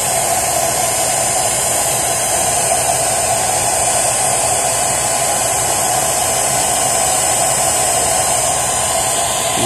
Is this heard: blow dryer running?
yes